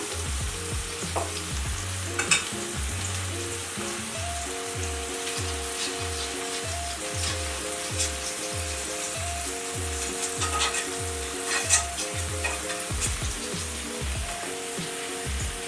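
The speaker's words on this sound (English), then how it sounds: "I'm going to take this pan I'm going to put just a bit of butter." Butter sizzling in a pan while burgers are prepared at home, a steady close frying hiss with a regular rhythmic pulse of scraping or stirring and a faint repeating tonal hum underneath.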